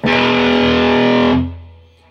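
A single distorted electric guitar chord on the open sixth and fifth strings is strummed once, loud and sustained for over a second before cutting off into a short fading tail.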